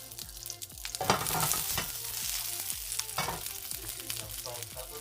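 Shishito peppers fry in olive oil in a hot pan, giving a steady close sizzle with clattering stirring scrapes throughout and no talking.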